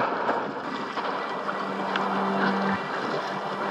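Gusty, irregular wind while wingfoiling on a 7 m² wing, a steady rushing wind and water hiss with a brief low hum partway through, no talk.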